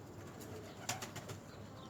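Domestic pigeons flying back home to their loft, with faint cooing and a brief cluster of wing flutters around the middle, low in level against quiet outdoor background.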